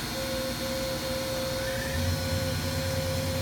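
The spindle of a 2006 Fadal VMC 6030HT vertical machining center runs at 4,000 RPM, a steady close hum with a constant tonal whine and no voices.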